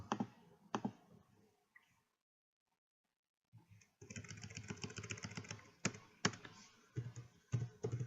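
Rapid keystrokes on a computer keyboard, a dense run of close clicks and taps that starts after a brief pause, steady and fairly quiet with a few sharper key hits.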